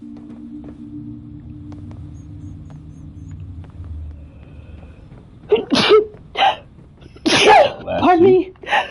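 Someone sneezes twice over a low engine-like rumble from a game: two sharp, loud bursts close together near the end, each with a breathy intake, and a voice follows.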